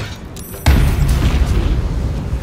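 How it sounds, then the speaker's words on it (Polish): A deep, heavy explosion bursts in Baldur's Gate 3, a sudden loud boom after a quieter stretch, followed by a rumbling tail that lingers. "On zaraz zacznie wybuchać."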